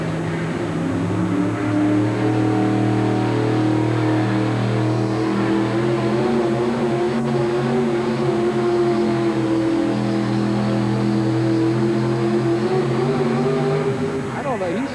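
A Ford pulling truck's engine holds a loud, sustained roar at a 1988 USHRA truck pull event in Denver, Colorado. The steady droning rev carries on for the whole stretch, with an announcer talking over it.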